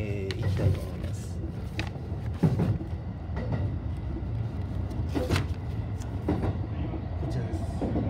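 Rumble of a Japanese local train running on the line toward Sonobe station, a steady low roar with occasional clicks and knocks throughout, while a person talks quietly over it.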